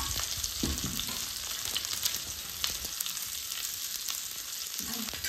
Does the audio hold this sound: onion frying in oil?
yes